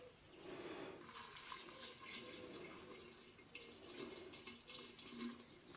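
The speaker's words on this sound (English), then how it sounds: "Finally, I'm going to cover it all with some good brandy." Good brandy poured over fruit in a Rumtopf, a steady liquid gurgle and splash running continuously at close range with no one speaking.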